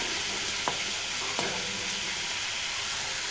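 Onions fry in a pan with a steady bright sizzle, stirred twice with short scraping knocks, close up and without voices.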